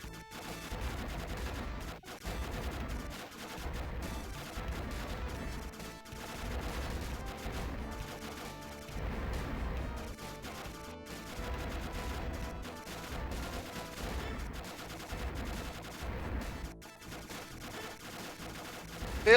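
Rapid bullet fire rattles in the 1992 Video System arcade shooter Aero Fighters, a relentless stream of shots and explosions packed into dense, loud game audio for about twenty seconds.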